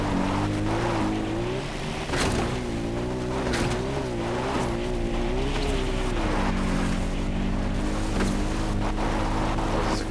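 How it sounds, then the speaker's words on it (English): An ATV quad bike ridden in the video game Far Cry 4, its engine droning loudly and continuously with shifting pitch, joined by rough terrain noise and occasional thumps, with no talk. "Return riding on an ATV"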